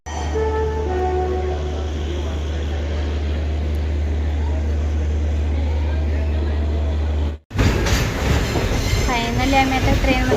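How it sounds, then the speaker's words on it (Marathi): A long-delayed passenger train rolls into Pune station with a loud, low rumble and wheel noise. It cuts off abruptly partway through, and a busier, louder stretch of railway sound follows. "सो थोड्याच वेळात ट्रेन येईल"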